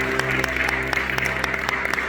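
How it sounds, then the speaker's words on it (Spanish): Church congregation clapping during a Spanish-language Sunday service, with rhythmic claps pulsing roughly in time over a steady backdrop of organ or keyboard chords. "¿Cuántos le pueden dar un aplauso a nuestro Padre glorioso?"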